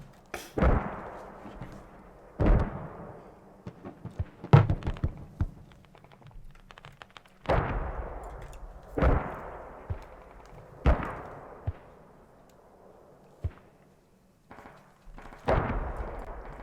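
Gunfire from the military shooter game Squad: sharp, echoing shots and short bursts, some near and loud, others distant, arriving in irregular bunches with quiet gaps between them.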